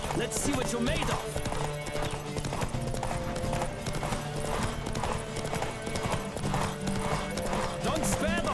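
Horse hooves clip-clop in a steady galloping rhythm during a race in The Witcher 3, close and loud over game music and effects, with a voice shouting at times.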